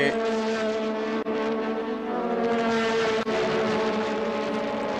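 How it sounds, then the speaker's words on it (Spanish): A 1980s turbo Formula 1 engine in the ATS car at the 1984 Austrian race howls loud and raspy in a sustained harmonic drone, briefly dipping twice as if on gear changes. "el sonido tan particular de esos motores turbo de la década de los 80. Un sonido diferente, muy ronco"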